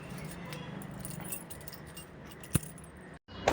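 A bunch of keys jangles faintly as a door is unlocked, with soft metallic rattling over low background noise, a sharp click near the middle and another at the end.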